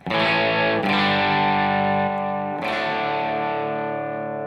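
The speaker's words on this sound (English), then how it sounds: "here's the core sound of the amp" Thick, distorted electric guitar chords ring out loud through a Headrush MX5 amp modeler, two struck chords sustaining and slowly fading, with no talking.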